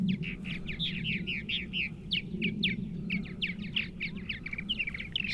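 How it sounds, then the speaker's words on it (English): Purple martins at a communal nesting colony give a steady stream of close, overlapping chirps and gurgling calls over a low background rumble. "Okay, birds, how we doing up here?"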